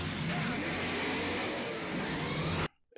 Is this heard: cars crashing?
yes